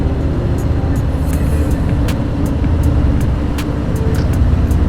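A Harley-Davidson Fat Bob motorcycle is ridden, with a loud steady low engine rumble and rushing wind noise throughout, punctuated by periodic short clicks, and nobody speaking.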